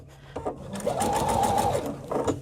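A sewing machine stitches a fabric quilt block in one steady, buzzing run of about a second, fairly close, with brief handling sounds before and after.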